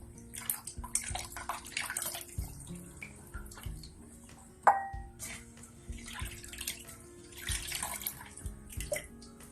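Water runs steadily as banana heart is washed by hand at a sink for a corn beef patty burger, with splashing and a sharp clatter midway.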